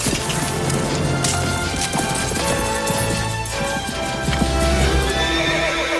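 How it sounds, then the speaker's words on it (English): Film soundtrack of horses jumping over a small canyon: neighing, clattering hooves and thuds in a busy, loud mix layered over music throughout. "Just watching the horses jump, I thought was nice."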